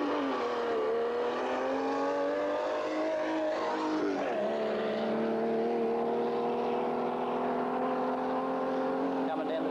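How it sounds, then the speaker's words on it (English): Race cars, including Tiranas, roar away from the start line of a 33-mile final, engines revving hard and rising in pitch as they accelerate, with a commentator talking over the steady engine noise. "Lights going down. They're off, so 186 leaves the line quicker."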